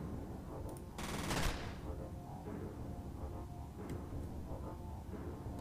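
A short, loud burst of gunfire from the game F.E.A.R. erupts near the start, followed by quieter scattered shots and clatter under a low background rumble.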